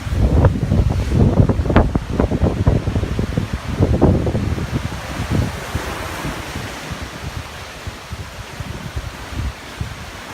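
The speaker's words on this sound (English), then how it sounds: "This part was really windy." Strong wind buffets the microphone in loud gusts over broad roaring surf near Merlin's Cave at Tintagel on an outgoing tide, heaviest early on and settling into a steadier rush.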